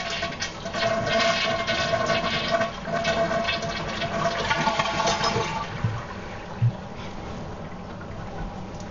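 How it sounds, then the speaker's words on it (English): A toilet flushes as its tank is drained during a bidet seat installation, a loud rushing and gurgling of water that holds for several seconds, then trails off into quieter trickling with a small knock near the end. "First off, we're going to flush the"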